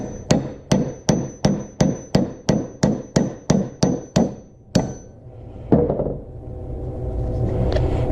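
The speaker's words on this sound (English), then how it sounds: "I just broke mine, so I'm using a regular hammer" Regular steel hammer, used in place of a brass one, striking a punch to cut a ring blank from a coin: thirteen sharp, evenly spaced metallic blows, loud and close, then a heavier thud and a rising rumble.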